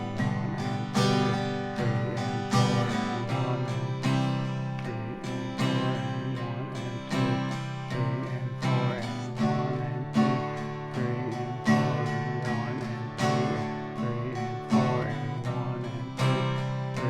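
Strummed guitar chords play a steady rhythm with slightly heavier accents on beats two and four, continuous and clear, with no talking.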